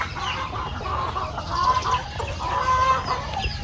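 Native chickens cluck and murmur close by in a steady, busy chorus, with short rising calls repeating over a low rumbling background, and no talking.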